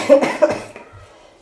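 A person coughs twice in quick, close succession, forceful and near, then the sound trails off into near silence with a faint rustle at the end; this happens in a home where herbal cough-remedy powder is being prepared.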